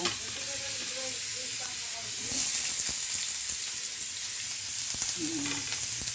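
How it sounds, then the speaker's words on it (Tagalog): Garlic sautéing in a pan for a mung bean dish, a steady close sizzle and hiss running through the whole stretch, with faint scraping from stirring and a few low clinks, nobody talking. "gigisa na natin ang bawang"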